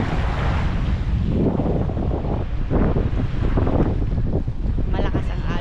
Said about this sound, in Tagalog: Malakas ang alon, so maraming isda, maliliit.